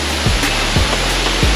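Roshi Jharana waterfall in Kavre near Panauti pours as a loud, dense, continuous roar close by, with a few low thumps from handling, and no talk.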